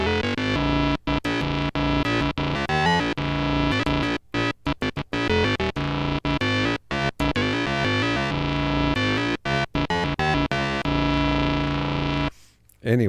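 Moog Minimoog synthesizer played in a demonstration: loud, distorted, buzzy tones in choppy rhythmic bursts with short gaps, continuing for most of the stretch before a brief pause near the end.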